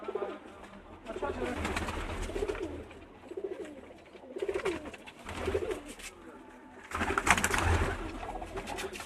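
Pigeons coo in soft repeated bursts close by while someone talks intermittently over them, with rustling and movement in the background.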